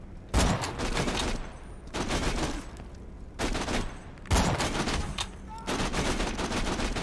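Bursts of rapid automatic gunfire in the video game Borderlands 2, loud close volleys in four long stretches separated by short pauses.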